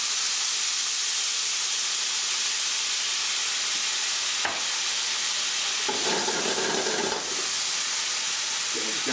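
Garlic, ginger and soy sauce sizzle steadily in a hot pan, a loud continuous hiss with a sharp crackle midway and a brief louder sputter as more liquid hits the pan.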